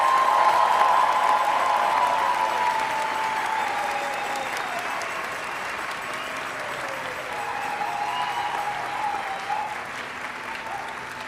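A commencement crowd gives a hearty round of applause for the graduating class of 2023, sustained clapping with a faint murmur of cheering that eases slightly then holds steady.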